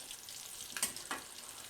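Chicken pakoda frying in hot oil on a low flame sizzles with a steady, close crackle, and a couple of brief louder spatters stand out.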